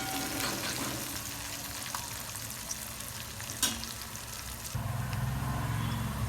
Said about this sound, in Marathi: आता मिरच्या टाकून द्यायच्या कापलेल्या. मिरच्या चांगल्या फ्राय होऊ द्यायच्या तेलामध्ये.